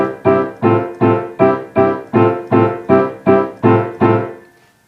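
A piano plays a boogie-woogie left-hand pattern with right-hand chords, eleven evenly spaced, strongly struck notes in a steady rhythm, close and loud, with the last one ringing out and fading.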